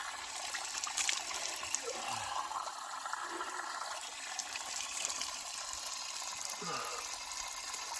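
Water runs and splashes steadily from an outdoor spout along a pilgrimage trail in Italy, a continuous gushing wash with a few faint voices underneath.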